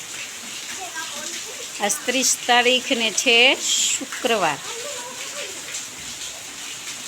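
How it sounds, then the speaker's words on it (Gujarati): Heavy rain pours steadily in Bhavnagar, with roof water running down through a makeshift pipe into tanks, a continuous hiss and gush under someone talking. "જોરદાર વરસાદ ભાવનગરમાં છે."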